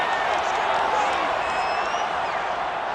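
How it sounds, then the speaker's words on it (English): Stadium crowd noise from Madden 22 football game, a continuous loud roar of shouting fans watching an Eagles at Falcons replay, steady throughout with broadcast commentary voices mixed in. "Plenty of shouts from this crowd as they watch the replay."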